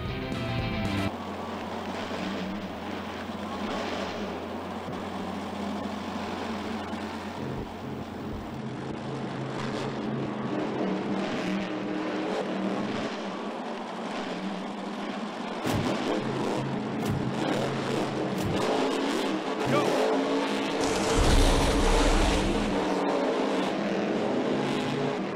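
A monster truck stadium race in the Monster Jam video game plays as a steady, loud engine drone with revving shifts, occasional thuds and crashes, and no voices over it.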